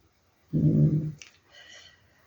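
A puppy being patted makes a brief low whimpering, growly sound up close, followed by faint rustling in a quiet room.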